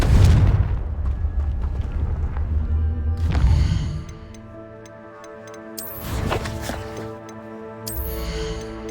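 A Confringo blasting spell in Hogwarts Legacy fires during a fight with a giant spider, giving a heavy booming impact at the start and further blasts and magical bursts over an orchestral score.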